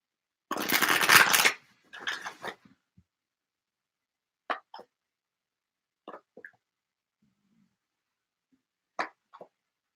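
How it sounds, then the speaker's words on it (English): Tarot cards are shuffled in a loud riffling burst, then a shorter second shuffle, followed by a few soft, scattered taps and card clicks in an otherwise quiet room. "Let me just shuffle, shuffle."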